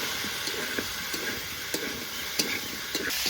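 Taro and carrot frying with turmeric and ginger paste, a gentle sizzle under intermittent spatula scrapes and taps against the pan, close and fairly quiet, no talking.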